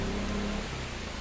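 Steady rain pours down outdoors in Kanyakumari, a dense, even hiss filling the whole moment with no voices, and a faint low tone fading out early.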